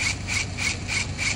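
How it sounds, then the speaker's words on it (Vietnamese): A Dekton M21-ID1385Pro cordless impact drill running in pulse mode gives a close, rhythmic whirring that surges in about five even pulses, with a high whine on each beat and no talk. "Đây anh em thấy, thì cái máy nó sẽ chạy với một cái lực mà nó sẽ tạo một cái nhịp"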